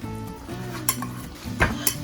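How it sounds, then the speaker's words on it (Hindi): Fruit chaat is tossed with apricot chutney in a bowl, with a spoon clinking and scraping against the dish in a few close, uneven strokes over a low background hum. "अब हम इसे डालेंगे अपनी फ्रूट चाट के ऊपर और इसे चाट के साथ अच्छे से मिक्स करेंगे"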